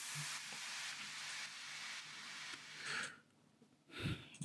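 A downshifter effect for Afro House production gives a dense, hissing noise wash that holds, then drops away abruptly, followed by a short gritty burst, with no other sounds.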